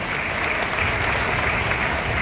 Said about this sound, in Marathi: आजचे आपल्या एमआय उडान प्रोग्रामचे एमआय योद्धा साठी एकदा जोरदार टाळ्या झाल्या पाहिजे